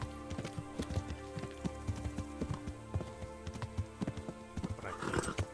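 A horse in the medieval video game Kingdom Come Deliverance gallops with a steady rhythmic clatter of hoofbeats, then gives a short whinny near the end, close and clear with no talk over it.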